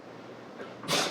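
A single sharp sneeze bursts out near the end after quiet room hiss.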